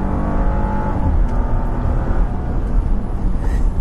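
Hard acceleration from a 2014 Toyota Venza in sport mode, a loud, steady engine drone with rising harmonics that holds strongly for about four seconds, no talking over it.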